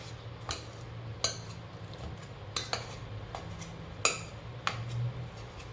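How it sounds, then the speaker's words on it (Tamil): Boiled potatoes mashed in a bowl for a potato smiley snack, with a quiet stream of soft clinks and taps from utensil against bowl, several sharper knocks spaced irregularly over a low steady hum. "சரி, இப்போ நம்ம இதை வந்து மசிச்சுட்டுப்போம். நல்லா கட்டி வராத மாதிரி நல்லா மசிச்சுப்போம்."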